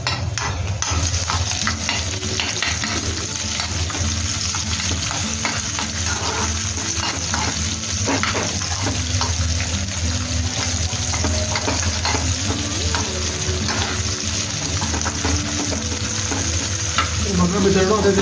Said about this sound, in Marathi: आता कांदा चांगला गोल्डन ब्राऊन करून घेणार आहेस ना?